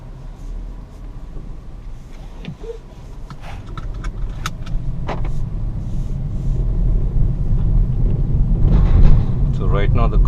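Skoda Octavia RS245 driving in comfort mode, a steady low engine and road rumble that builds gradually from near, with scattered small cabin clicks and rattles over the drone.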